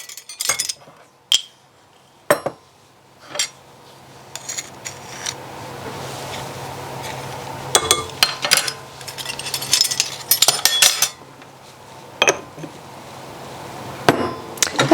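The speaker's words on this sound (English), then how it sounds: "I'm just going to take a little whisk and I'm going to mix my dry ingredients together" Small whisk mixing dry ingredients for an apple coffee cake in a bowl, giving a run of sharp clinks and taps against the bowl with a faint rustling underneath, the strikes irregular and close.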